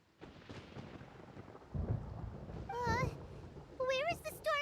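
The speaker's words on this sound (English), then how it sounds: "Paimon hears thunder!" Thunder rolls in the video game Genshin Impact as a low, swelling rumble that builds partway through, with character voices speaking over it.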